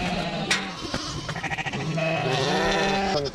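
Hill lambs bleating on a sheep farm, several loud, close bleats overlapping, with one long, wavering call near the end against a noisy background.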